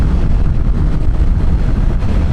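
Wind buffets a rider on a Kawasaki Versys 1100 motorcycle at speed, a steady, loud, low roaring rush with no voices.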